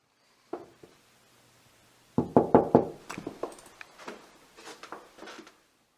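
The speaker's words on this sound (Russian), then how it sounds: "если я постучу в его дверь" Three or four quick, firm knocks on a bedroom door in a quiet house, close and loud, followed by a short stretch of muffled movement and faint talk.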